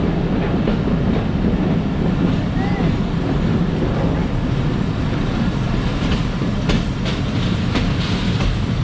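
Dhalarchar Express train pulling into Lalitnagar railway station, a continuous loud rumble with rattling carriage noise and some clicking of wheels on track, plus wind buffeting the microphone.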